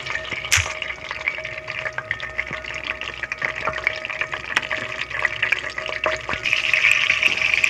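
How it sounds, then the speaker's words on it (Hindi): Cumin seeds fry in hot oil in a pan, a close, steady crackling sizzle with scattered pops that holds throughout and grows slightly denser toward the end. "इसमें मैं शामिल करूँगी ज़ीरा। एक से 2 मिनट के लिए इसे फ्राई करना है।"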